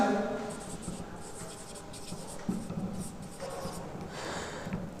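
Chalk or marker writes on a classroom board during a grammar lesson, a steady run of scratchy strokes and taps with a faint voice and room noise underneath.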